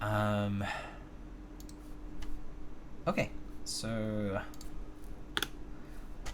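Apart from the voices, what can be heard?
NK Classic TKL Hatsune Miku Edition mechanical keyboard typing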